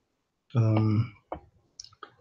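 A computer mouse clicks a few times, with short, light, separate clicks following a brief tonal sound, close and fairly quiet.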